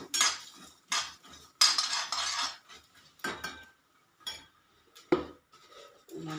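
Ground chili roasts dry in a pan with no oil under constant stirring, giving short bursts of metallic scraping and light clinks separated by brief quiet gaps, close and fairly faint.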